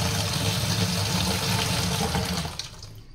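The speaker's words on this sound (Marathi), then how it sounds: "आता हिला मस्तपैकी पाण्यात धुवून घेते." Finely chopped fenugreek leaves are washed in water, giving a steady close rush and slosh of water that fades away near the end. Nobody speaks.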